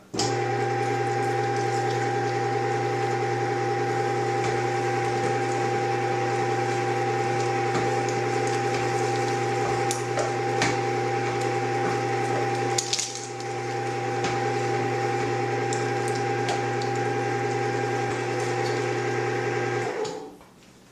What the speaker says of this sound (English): You can see how easy the grinding goes.